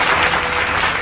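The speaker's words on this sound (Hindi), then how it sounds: "डीपी वाली टीम के लिए एक बार जोरदार तालियां बजा दीजिए" Loud, dense applause from a large crowd of coaching students in Kota, continuous clapping close and full throughout the short burst.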